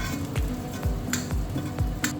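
Protein frying in oil on a curved induction stove for egg fried rice: a steady, close sizzle with regular scraping stir strokes every half second or so.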